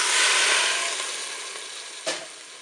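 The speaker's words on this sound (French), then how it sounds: "Je vais maintenant verser l'eau dans la cuve." Water pours into the pot of a Cookeo cooker, giving a steady, bright hissing splash that slowly fades over a few seconds, with one brief clunk near the end and no talking.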